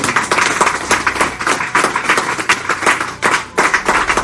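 A church congregation claps in acclamation during a service, a loud steady run of rhythmic hand claps filling the whole stretch with no talking over it.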